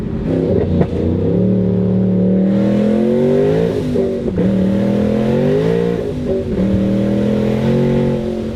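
A Ford Mustang Boss 302 V8 revs hard and loud toward 8,000 rpm, its deep roar rising and falling through several sustained pulls, close by and with no voices.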